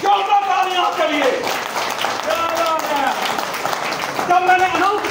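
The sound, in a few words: audience applause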